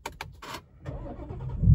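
A 2019 Ford Mustang GT cranks briefly after a few clicks, then its engine catches and swells into a loud, rising rumble that builds toward the end.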